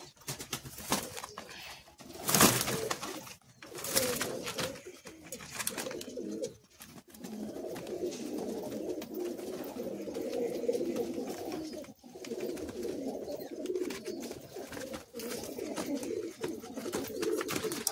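Madrasi high-flying pigeons coo in a loft cage in Kolkata, a steady murmur of soft, overlapping coos running close by throughout, with a few sharper bursts near the start.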